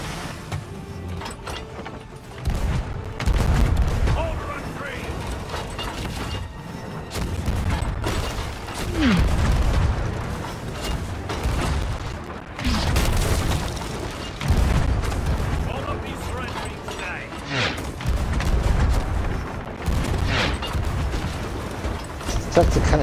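Ship cannons firing in Sea of Thieves: repeated heavy booms spaced several seconds apart, each with a rumbling tail, over continuous sea and game ambience, with people talking intermittently.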